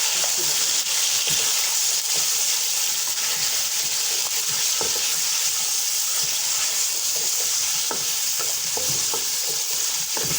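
Steady sizzling of beef and onions frying in a pan, with occasional stirring scrapes, close and continuous.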